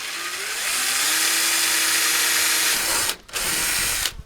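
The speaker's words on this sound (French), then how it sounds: "Et puis on perce." A power drill fitted with a wood bit bores into wood, a steady loud whine with rising pitch that cuts out briefly near the end and restarts, with no talk.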